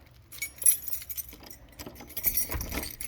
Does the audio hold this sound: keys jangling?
yes